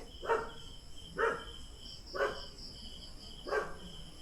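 A dog barks four times at spaced intervals outside a house in the mountains, each bark moderately distant and faint, over a steady high whine of insects and crickets.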